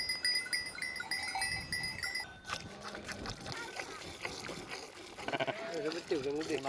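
Sheep on a farm in Sardinia, several bleating at moderate distance among other livestock sounds, with a voice talking over part of it.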